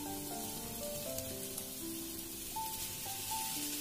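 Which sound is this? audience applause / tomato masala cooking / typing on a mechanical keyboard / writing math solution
tomato masala cooking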